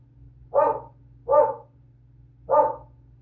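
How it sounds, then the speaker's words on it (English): Three sharp, close dog barks: two in quick succession, then a short gap before the third. Nothing else is heard. "Now the dog's barking"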